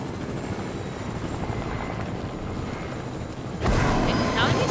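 A helicopter in the Fortnite video game drones with a steady rotor chop throughout, jumping suddenly louder and closer near the end.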